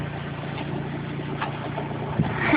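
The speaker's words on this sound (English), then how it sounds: "There go the guys in the snowmobiles." Snowmobiles run past during a blizzard at night, a steady low engine drone that holds throughout and builds slightly toward the end, with no one talking.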